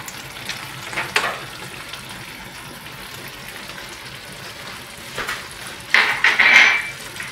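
Fried onions tipped into a pot of shahi biryani, producing brief bursts of sizzling and pan clatter near the start and again toward the end, close by, with quieter kitchen hiss between.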